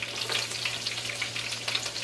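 Garlic frying in a pan for shredded beef tacos, a busy crackling sizzle with small popping bursts throughout, close and without talking.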